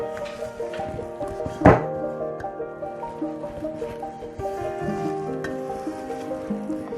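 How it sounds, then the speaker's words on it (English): Zucchini bread dough being mixed by hand in a bowl: soft, repeated squishing and stirring sounds with one heavier thunk early on, close and steady. "You keep on mixing."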